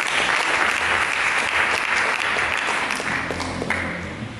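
A church congregation breaks into sustained applause during a sermon, a thick wash of many hands clapping at once, loud and continuous, easing slightly toward the end.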